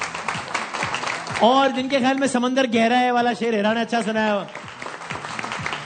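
A studio audience at a Pakistani TV poetry contest claps to vote, light clapping heard at the start and end while a host talks loudly through the middle.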